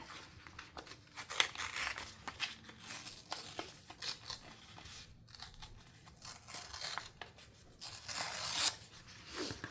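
Paper being ripped by hand while making a book page pocket, faint close crinkling and tearing in short irregular bursts with soft rustling between them.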